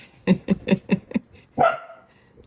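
Five quick, evenly spaced dog barks come close together, then a short pause and one longer, higher yelp.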